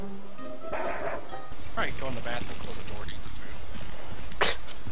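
A dog barks in the H1Z1 survival video game, a few sharp woofs near the start and later yips, close and loud, with people talking over much of it.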